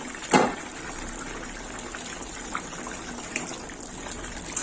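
Fish and pointed gourd curry simmers in a pan, a steady bubbling hiss with a few soft pops rising above the constant boil.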